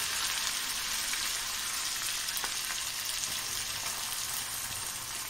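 Chopped onion frying in a pan after garlic paste, a steady close sizzle with faint crackles and occasional stirring clicks.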